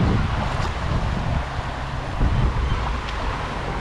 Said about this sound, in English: See the water coming down?